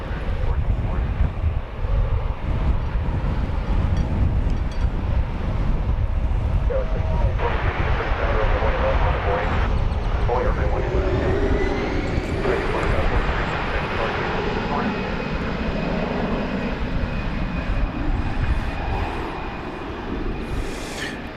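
A jet airliner taking off from a runway at DFW Airport, a steady broad engine roar that holds loud throughout with a rising whine partway through, while radio chatter and talk run over it.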